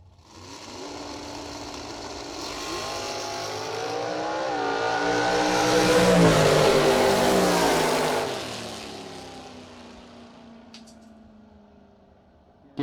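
A foot brake class drag racing car at the Colonial Classic passes with a swelling engine roar that rises to a loud peak mid-way, its pitch sweeping as it revs, then fades away into distance.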